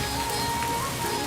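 Rain falls steadily on the surfaces outside a house, a close, even hiss of drops with no voices over it.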